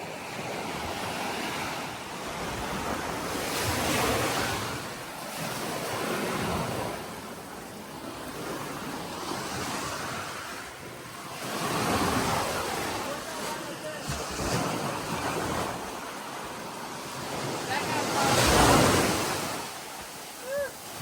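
Ocean waves with a strong current surge in and wash out at a beach on Sesoko Island, Okinawa, in slow, repeated swells, with gusting wind buffeting the microphone.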